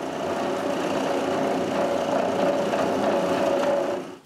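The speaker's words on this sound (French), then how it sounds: "Je commence par élargir les trous que j'avais percés." A drill enlarges previously drilled holes so knife rivets will fit. It gives a steady, close, continuous whine with an even hum that holds for about four seconds and then stops. There is no talking.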